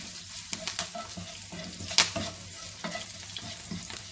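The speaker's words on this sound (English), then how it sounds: "Fry the chilies well so that you can feel the spiciness in the oil." Green chilies frying in hot oil in a pan, a quiet crackling sizzle with irregular spatters and one sharper pop, stirred now and then, no talking.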